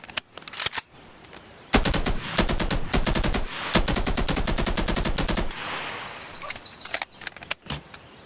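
Rapid automatic fire from an AK-47 rifle mod in the VR game Bonelab, with two long loud bursts of closely spaced shots, preceded and followed by clicking weapon handling sounds, no talking.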